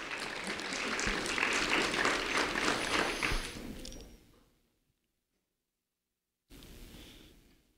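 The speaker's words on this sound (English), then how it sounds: "a round of applause for Olivia Morales" An audience claps for a third-grade student being honored at a sheriff's office recognition event, steady applause for several seconds that fades to silence, then a brief burst resumes.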